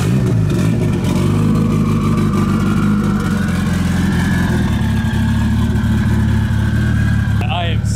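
A Mitsubishi Evo street car with a 4G63 engine, built to 1100 hp on 56 psi of boost, fires up and settles into a loud, steady, rumbling idle that stays close and constant throughout.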